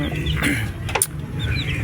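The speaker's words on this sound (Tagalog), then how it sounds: "Dalawang inahin lang po to." Two mother hens cluck softly and steadily at close range on a backyard farm, their low calls continuing throughout with a brief higher squawk midway.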